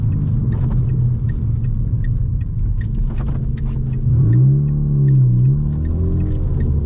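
A MK6 Ford Fiesta with a Hornet straight pipe exhaust drumming with a loud, deep rumble from inside the car at night, holding steady before a rising rev swell.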